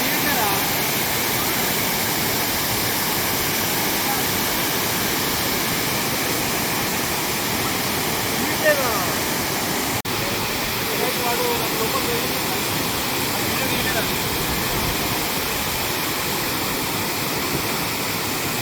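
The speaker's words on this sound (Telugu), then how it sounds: "ఈ వాటర్ ఫాల్ చూసారా" A waterfall near Kotpally reservoir roars in a loud, constant rushing wash close by, unbroken throughout, with occasional faint voices buried beneath the steady noise.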